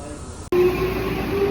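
Train on the line near Saginomiya station: a brief steady rumble with a sustained tonal whine after a sharp cut, close and fairly loud, with no speech.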